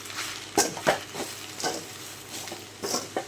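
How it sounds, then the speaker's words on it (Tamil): Drumstick leaves being stirred in hot oil in a pan, with soft scraping and sizzling strokes coming in a few separate bursts at close range, no voices. "நல்லா எண்ணெயில் கலந்து விட்டுக்கலாம்"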